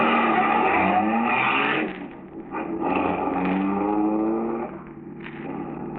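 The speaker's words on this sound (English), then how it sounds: "Then, Marola in the second car, the stolen car, starts." A car engine from a 1945 radio mystery drama fires up and roars away down the road, a loud, gritty motor surge that swells, dips briefly, then climbs again before easing off, with no voices over it.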